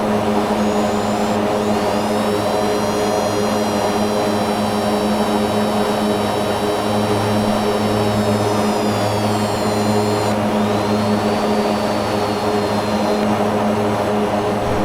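A simulated Mitsubishi MU-2B-60 turboprop takes off and climbs, its engines a loud, continuous droning roar with steady high turbine whines that shift in pitch.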